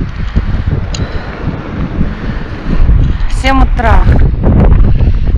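Strong icy wind in Magadan, Russia, buffets the microphone in gusty, rumbling waves, with a voice speaking briefly over the roar.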